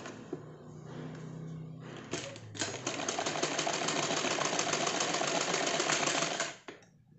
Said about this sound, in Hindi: इस तरीके से हम पूरे ऊपर से लेके नीचे तक हम इसकी सिलाई कर लेंगे